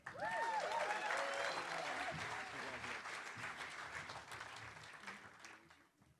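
An audience at a realtors' leadership academy graduation ceremony breaks into loud, dense applause that gradually fades, with a voice speaking briefly over the clapping at the start.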